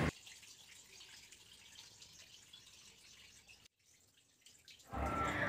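Dirty water draining out of a budget washing machine, a faint, steady trickle that briefly drops away, then returns as a louder rushing flow at the end.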